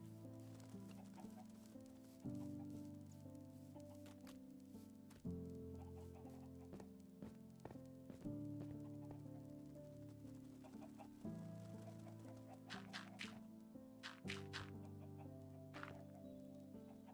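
Chickens in Minecraft Bedrock with the RealismCraft pack cluck in short repeated bursts, several birds overlapping across the stretch, fairly faint, with scattered light tapping and no speech.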